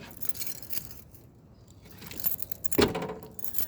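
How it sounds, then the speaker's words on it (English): Car keys for a 1995 Acura TL jangle close by in light metallic bursts, with one sharper rattle near the end. "You guys are curious about my keys?"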